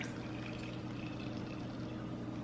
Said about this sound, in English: So to do this, I'm adding half the juice of a lemon.